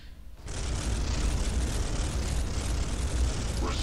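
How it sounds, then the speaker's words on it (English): Bolter fire from Space Marines in Warhammer 40,000 Space Hulk arrives as a sudden, sustained roar of dense bursts that stays loud and unbroken after a quiet start. "That is a whole lot of bolter fire up there."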